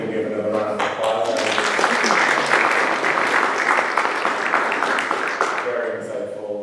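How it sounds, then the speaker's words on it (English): A sustainability speaker-series audience breaks into another round of applause, loud, dense clapping that builds after a moment and carries on steadily, with a voice speaking briefly at the start and end. "I think we can give another round of applause"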